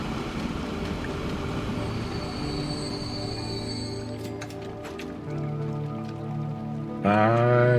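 A train in a video game pulls into a platform and stops. Steady rolling rumble and sustained wheel squeal carry under a faint patter, ending in a louder tonal brake squeal as it halts.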